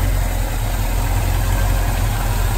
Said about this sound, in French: le moteur tourne très bien